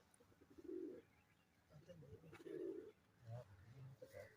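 Pigeons kept by a fancier in a loft coo in low, rounded bursts, several overlapping calls rising and falling close by with soft rustling between them.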